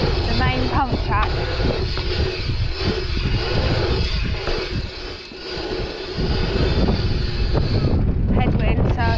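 Strong headwind buffets the microphone while riding a large bike pump track, a loud, rumbling low roar that swells and dips, with a rider talking over it.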